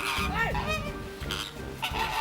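A flamingo gives nasal, goose-like honking calls, several short honks in quick succession, fairly close against an outdoor background.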